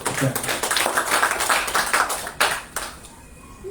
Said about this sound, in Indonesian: Tolong mohon tepuk tangannya buat Mas Irfan.